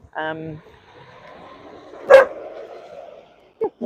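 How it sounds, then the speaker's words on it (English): A dog nearby gives one sharp, loud bark during a live horseback hack, and other short sounds come before and after it. "they're not bothered by the dog"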